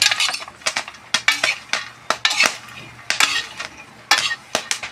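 Popcorn is stirred in a cooking pot, giving a series of sharp, close scrapes and clinks of the utensil against the metal with brief pauses between strokes.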